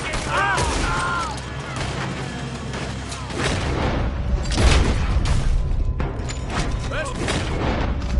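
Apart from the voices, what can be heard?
gunfire in video game Red Dead Redemption 2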